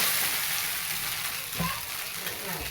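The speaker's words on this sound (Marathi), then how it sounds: "घे सगळं चांगलं परतून घ्यायचं ह्याला" Onion poha mixture sizzles softly in a pan while being sautéed, a steady hiss with a faint stir near the middle, close by.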